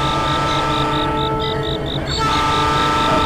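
A train rolls past close by at a level crossing, a steady loud rumble with a repeating high pulsing tone over it, the sound shifting partway through.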